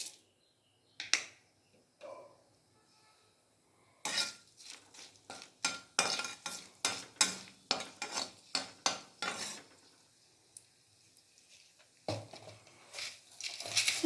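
Dried red chillies in oil in a kadai: a quiet start gives way to a rapid series of sharp metallic scrapes and clatters from stirring, over a faint sizzle, close up.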